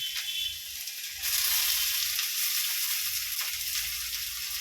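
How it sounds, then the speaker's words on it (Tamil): Tomato and curry leaves hitting hot oil in a pan on a home stove, a loud steady sizzle that flares up partway through and keeps crackling with no talk over it. "இந்த ஒரு தக்காளி கருவேப்பிலை ரெண்டும் போட்டுக்கலாம்"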